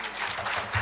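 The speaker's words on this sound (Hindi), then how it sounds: "तालियां बजाते रहिए प्लीज।" An audience applauds at an award function honouring blood donors for army families, a brief steady patter of clapping.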